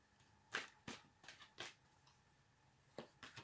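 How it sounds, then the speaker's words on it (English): A deck of cards being shuffled in several quick, sharp riffles with short pauses between, faint and close in a quiet room, no voices. "Shuffle again."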